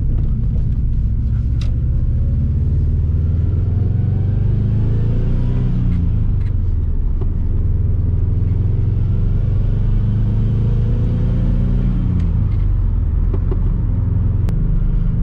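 Subaru WRX V Limited engine droning steadily while driving on the road, a loud continuous low rumble with shifting pitch through the whole stretch, no talking.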